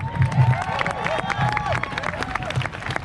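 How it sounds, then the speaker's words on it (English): A crowd at the Unity March rally arriving at Fairpark claps and cheers, a close, dense patter of applause with shouts and babble mixed in. "let's give him a big round of applause"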